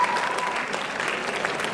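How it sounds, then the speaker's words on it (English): Sustained applause at a school graduation ceremony for the graduating class, a dense, even patter of many hands clapping at moderate loudness throughout. "give a huge round of applause for the latest batch of IISJ"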